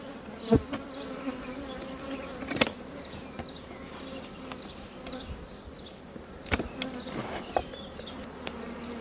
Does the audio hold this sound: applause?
no